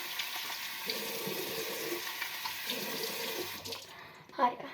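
Tap water runs steadily into a bathroom sink while a face is rinsed after a pink foam cleanser, a continuous close hiss with small splashes and a short knock near the end.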